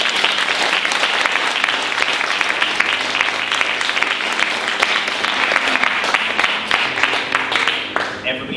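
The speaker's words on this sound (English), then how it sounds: "Give her a nice round of applause." Dense audience applause fills a hall, a steady wash of many hands clapping at close range that thins slightly near the end, with a few voices faintly underneath.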